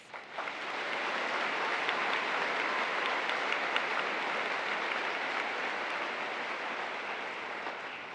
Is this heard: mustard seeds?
no